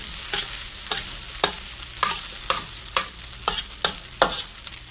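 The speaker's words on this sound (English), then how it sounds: "So now we're going to add our half-cooked egg." A half-cooked egg stir-fried with rice in plenty of oil, a spatula scraping the pan in about eight regular strokes over a steady low sizzle, close, with no voices.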